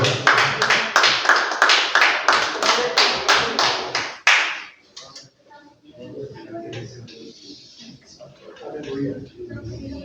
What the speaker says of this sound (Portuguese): As palmas louvem ao Senhor